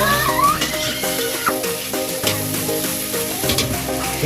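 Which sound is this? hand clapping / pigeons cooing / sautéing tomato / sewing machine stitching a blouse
sautéing tomato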